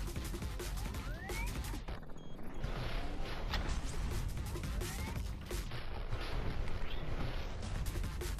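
Rapid laser-blaster gunfire from the VR shooter Space Pirate Trainer on Oculus Quest comes in dense, continuous volleys with whooshing projectiles and crashes over a loud, busy game mix.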